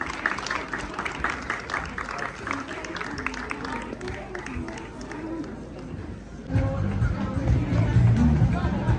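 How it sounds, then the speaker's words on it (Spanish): Applause for Jamie at a drawing competition event, a dense patter of clapping mixed with crowd chatter that grows louder and fuller toward the end. "Un aplauso para Jamie."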